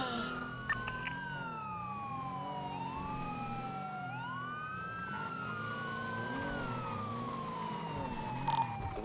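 A vehicle siren wails in a GTA roleplay game, a steady rising and falling emergency tone heard clearly and alone for several seconds over a faint low engine hum.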